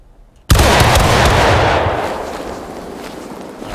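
A line of soldiers fires a musket volley in the War of Rights video game: one sudden loud blast after a moment of near silence, followed by a long rolling, crackling decay.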